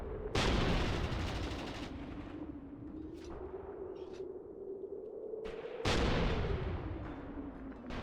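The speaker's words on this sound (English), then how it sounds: "This poor AT gun. They're firing as best as they can, man." Anti-tank gun firing in the Mius Front war game: sharp loud blasts with long rumbling decay, a strong shot near the start and another around six seconds, over a steady droning battle background.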